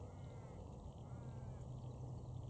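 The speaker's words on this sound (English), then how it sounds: "Just hear the crows in the background and those frogs." Crows cawing from a distance beside a quiet creek tributary in nature, faint calls over a soft steady background hum.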